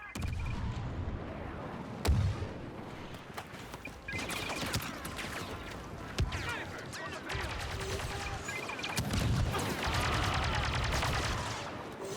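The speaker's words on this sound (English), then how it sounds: "Might as well throw a grenade." A grenade blast during gunfire in a shooter video game, with a loud bang standing out from continuous distant-sounding shots and battle noise, dense and busy.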